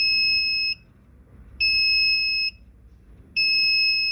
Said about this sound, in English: You can hear the buzzer and see the text pop up in action.